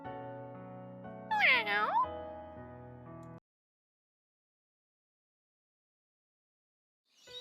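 A kitten gives a high, wavering meow of about a second against a soft musical backdrop, then everything drops to near silence before a brief sound returns at the very end.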